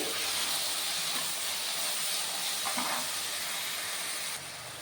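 Ghee sizzles and hisses steadily in a pan while a methi egg stir-fry is cooked, a soft continuous frying hiss with faint clinks, no talking.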